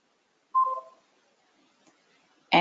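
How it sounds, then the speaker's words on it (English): A short two-tone electronic chime signals an incoming email notification, clear against silence, with a brief click near the end. "And I heard I just got a notification as well"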